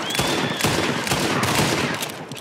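A rapid, dense volley of pistol shots in the Western video game Red Dead Redemption 2 booms and cracks over continuous reverberant game noise, loud and close with no pauses.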